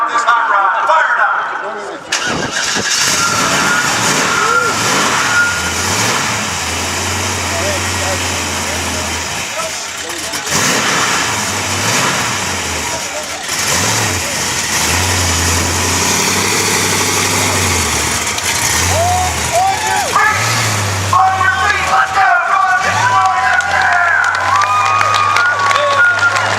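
A Chevy hot rod engine cranks and fires, then settles into a loud, rumbling idle with throttle blips that carries on for over twenty seconds, while a crowd cheers and talks nearby.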